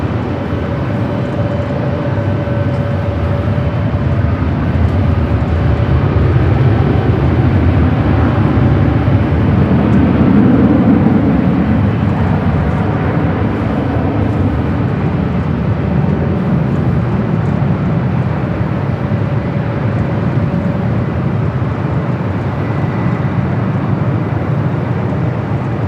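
An airliner takes off on runway 24 Left at LAX, a steady broad jet roar that swells slightly mid-roll and holds at a loud, even level throughout.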